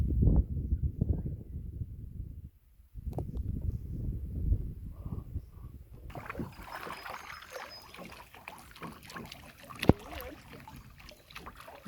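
Water sloshing and dragging as beer bottles are pulled through the Glenelg River in Victoria, Australia, behind a canoe, with gurgling splashes and a brief clink near the end.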